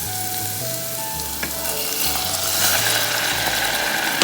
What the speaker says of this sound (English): put the garlic and the pepper into the oil